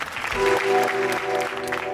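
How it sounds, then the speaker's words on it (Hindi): A short burst of audience applause, many hands clapping together, with a sustained musical tone running underneath. "सब आपके लिए तालियां बजाना चाह रहे थे, चलो बजाओ बहुत सारी तालियां"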